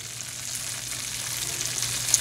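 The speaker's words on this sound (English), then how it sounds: "we're going to give this a good stir" A pot of loaded bratwurst stew with broken-up bratwurst pieces gives a steady soft sizzle and bubbling as it is stirred, a continuous close hiss with no talking.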